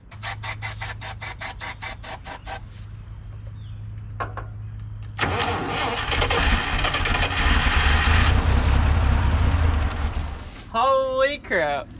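A 1958 Lull cherry picker that sat for 15 years is cranked and started. A rhythmic ticking comes first, then the engine turns over and catches into a loud, rough running roar, and voices speak near the end.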